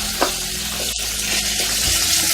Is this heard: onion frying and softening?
yes